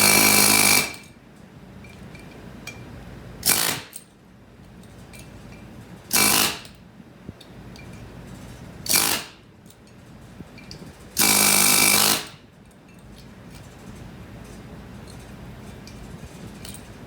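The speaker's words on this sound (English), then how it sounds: "I hit the point where I'm not long enough on my air chisel" An air chisel taps a wheel bearing race out of a brake rotor in five loud, close, rattling bursts of differing length, with quieter pauses of low shop hum between them.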